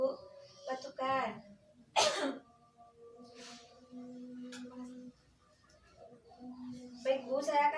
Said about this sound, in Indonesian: Batukan.